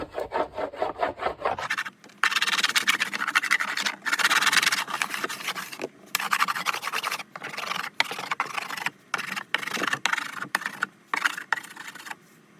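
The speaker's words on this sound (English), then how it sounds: "So, I like to apply a layer just straight off the wax first." A bar of all-temperature wax is rubbed onto a snowboard base in quick, scratchy back-and-forth strokes, close and fairly loud, with short pauses between bursts of rubbing.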